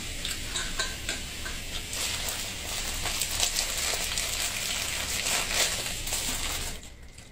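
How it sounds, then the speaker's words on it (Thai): Crab sticks cooking in a pan with salt: a continuous crackling sizzle with fine ticking pops, fairly close and steady, fading off at the very end with no voices. "ปูอัด เขากำลังสุกกับเกลือ"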